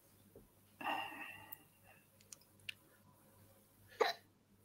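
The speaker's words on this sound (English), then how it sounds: "You got hiccups?" A man's hiccups, two or three short sharp jerks spaced a few seconds apart, close and fairly clear over a quiet room hiss.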